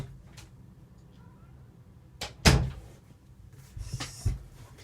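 A door is opened to let a cat into a room, giving a few soft knocks and a sharper clunk of the latch and door movement, faint and close, in an otherwise quiet room.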